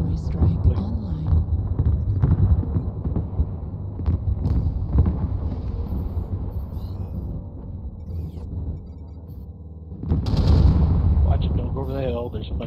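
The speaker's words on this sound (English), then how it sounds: "Artillery strike online." An artillery strike in MechWarrior Online on a frozen night map, with deep rumbling booms and blasts rolling on and off, a heavy surge near the end, and voices talking over the combat.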